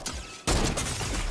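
A sniper rifle shot in a shooting video game, with an abrupt loud blast at about half a second that hangs on as a broad, sustained roar to the end. A lighter burst of game noise comes before it.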